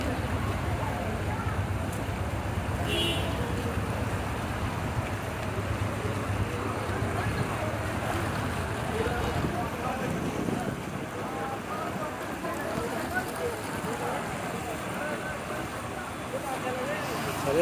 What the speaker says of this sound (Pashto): شدید باران په جلال کې الله دې ورحمېږي